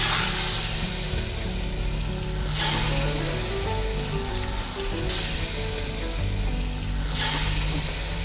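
Chicken coated in masala frying in hot oil in a Malabar kitchen, a loud steady sizzle with crackling bursts that swell every few seconds, continuous throughout.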